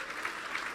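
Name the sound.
church congregation applause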